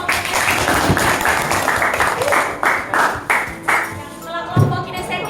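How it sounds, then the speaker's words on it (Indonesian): Students in a high school biology class clap for a presenting group, the claps falling in a fairly even rhythmic beat that loosens and thins toward the end, with some voices mixed in. "Tepuk tangan untuk"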